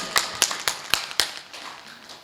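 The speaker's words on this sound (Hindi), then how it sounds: "तालियां, ऐसे बजाओ।" Crowd at a Hindi poetry recital claps in unison, five sharp, evenly spaced hand strikes ringing out close and loud, then trailing off into a faint echoey room tail with no voices.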